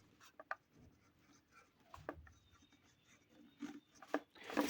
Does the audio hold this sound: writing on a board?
yes